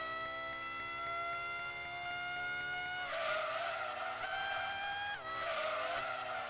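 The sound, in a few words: F1 V10 engine sounds in video game Gran Turismo 2 mod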